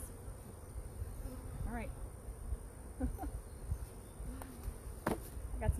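Honey bees buzzing around a strong beehive, a close, steady insect drone with individual bees zipping past, while a person speaks briefly nearby.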